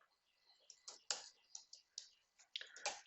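Computer keyboard typing of a network command, a close, irregular run of sharp key clicks with short pauses between bursts.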